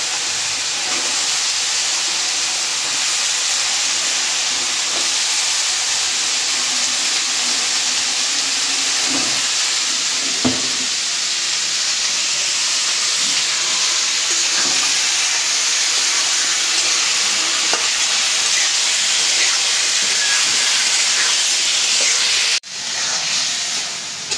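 Long beans and potatoes added to a hot pan of fried-down spiced curry masala, giving a loud, steady, broad hiss of sizzling that holds evenly for over twenty seconds with a few soft clinks and no talk.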